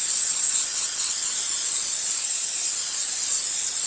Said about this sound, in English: spray the pans